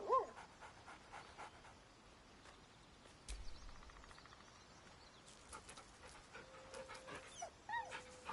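A dog pants softly and quickly in a quiet room, faint rapid breaths running throughout with a few small whimpers and light shuffling noises.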